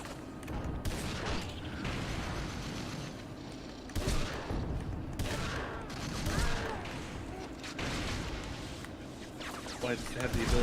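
Gunfire from a shooter game on the PS2, with repeated shots and booms over a dense, busy mix of game noise. Voices talk throughout.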